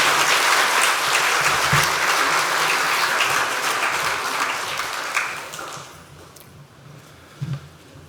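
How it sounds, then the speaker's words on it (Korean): Audience applause for Dr. Lee Chun-geun after his lecture, dense and loud at first, then thinning and fading out over the last few seconds, with a brief burst near the end. "다시 뜨거운 박수 한번 부탁드리겠습니다"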